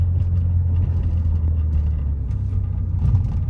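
A loud rigged Ford Fusion engine rumbles steadily at close range, a deep continuous drone with no revving peaks, heard alone without voices.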